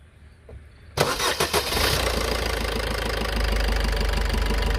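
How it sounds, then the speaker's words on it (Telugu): A Maruti Suzuki Baleno engine cranks and catches after a brief quiet moment, then settles into a steady, rumbling idle close by. "ఒకసారి ఇంజిన్ సౌండ్ అయితే కొద్దిగా గమనించండి"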